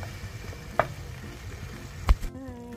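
Food fries in a pan with a little vinegar while it is stirred and mixed. A steady low sizzle runs throughout, broken by two brief utensil knocks against the pan.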